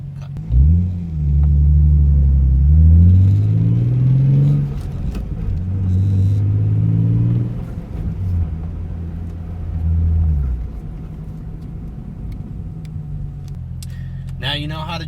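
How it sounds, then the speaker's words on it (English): A manual-transmission car accelerates through its gears, the engine rumble rising in pitch, dropping at each shift and climbing again in repeated sweeps, loud and close, with a voice talking over it throughout. "And then as your RPMs increase, you want to engage the clutch, shift into second, and repeat the process."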